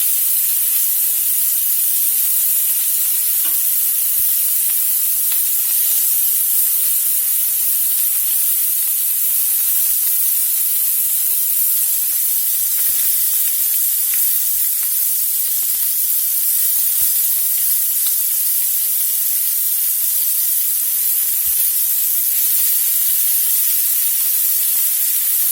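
Cajun-seasoned steak bites sear in a hot pan, giving off a constant, even hiss of spitting fat and steam that holds unbroken throughout with no talking.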